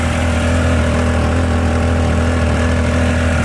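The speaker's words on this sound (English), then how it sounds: "Stock exhaust, the stock cat on there, so it's not going to be super loud." A Triumph Speed Triple 1200 RR motorcycle on its stock exhaust and catalytic converter idles steadily with a deep, even three-cylinder burble, close and loud throughout with no talk.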